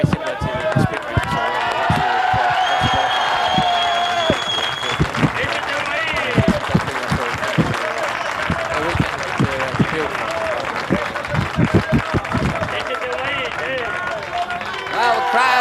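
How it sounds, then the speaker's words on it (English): At a Valencia motor race, a crowd shouts and applauds in a loud, busy wash of claps and cheering voices, with sharp hand-clap transients throughout. "the crowd are shouting about this man"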